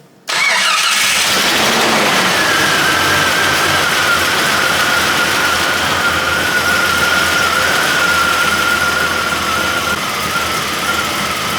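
A car engine running rich after valve work cranks and catches, then settles into a loud, steady run close by with a whining tone throughout.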